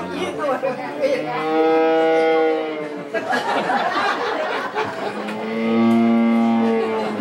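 A voice imitates a cow, two long drawn-out moos separated by a short burst of chatter and laughter, loud and close.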